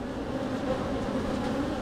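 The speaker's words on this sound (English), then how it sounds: "I'm gonna watch this pile of bees for a moment." Honeybees massed on hive frames buzzing steadily, a close, dense, continuous drone without pauses.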